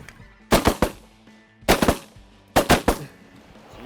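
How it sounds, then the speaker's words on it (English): Shotguns firing at ducks on a duck hunt over an oat field, three loud close volleys of three or four rapid overlapping blasts each, spaced about a second apart, with faint background noise between. "That was great shooting."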